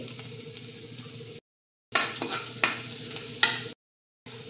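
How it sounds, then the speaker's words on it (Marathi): Chopped garlic and ginger sizzle in hot oil as a spoon stirs them, close and fairly loud frying broken by scrapes, in short bursts separated by brief silent gaps. "7-8 लसूण चिरून घेतलेले ते टाकून घेते"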